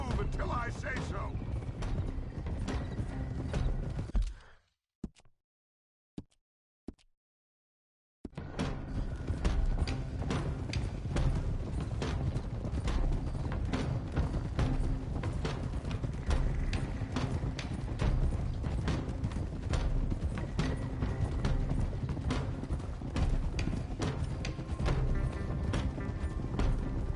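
Horses trot in Red Dead Redemption 2 with rhythmic clip-clopping hooves under ambient game sound, a short gap of near silence broken by a few thumps, then the trotting resumes, with talk at times.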